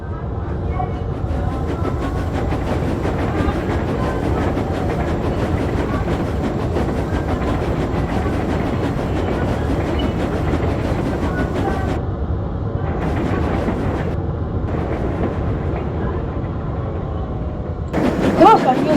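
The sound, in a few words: small green steam engine puffing along a viaduct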